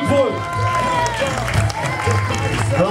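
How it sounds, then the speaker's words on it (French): Audience applause and cheering after a footwork final at a breakdance battle, a steady dense wash of clapping with crowd noise and a loud announcer's voice talking over it throughout. "On peut les applaudir"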